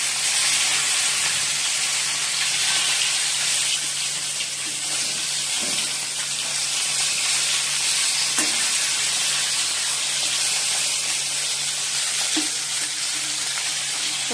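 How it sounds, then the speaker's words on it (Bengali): Steady, loud hiss of fish frying in oil in a pan, continuous throughout with a few faint clinks and no talking. "মাছ ভাজা হচ্ছে"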